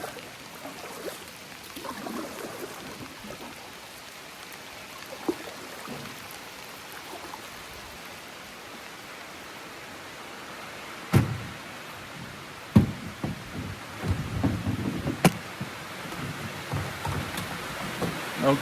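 Rain falls steadily around a canoe approaching a boat slip, a soft continuous patter on water with a few sharper knocks and thumps from the boat near the end.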